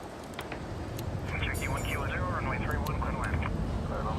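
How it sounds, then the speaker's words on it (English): In an airport simulator game, a fixed-wing airplane comes in with a steady engine drone that builds slightly, while someone talks over it throughout. "Sounds like another plane coming in."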